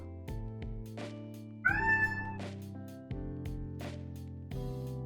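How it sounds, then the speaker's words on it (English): A cat meows once, clearly and close by, over a steady background of soft game music and low electronic tones. "She was just meowing for attention"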